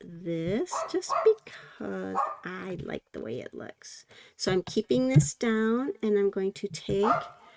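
A dog barks and yips repeatedly indoors, the barks scattered between and under a woman's steady close-up talking.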